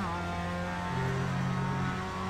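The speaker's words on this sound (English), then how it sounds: "Oh, I let the revs hang. I might have over-revved the engine." A Mazda MX-5 engine in iRacing holds a high, steady rev note for a couple of seconds, a continuous harmonic drone with a slight shift partway through.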